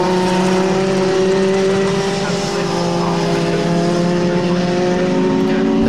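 Ginetta G50 race cars lapping Snetterton circuit, a steady, loud engine drone with sustained harmonic whine throughout, the field running close together at racing speed.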